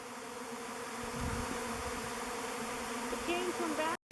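A swarm of honeybees moves toward a log hive, a steady close buzzing drone that fills the whole stretch with a few louder passes near the end, and someone speaks briefly over it.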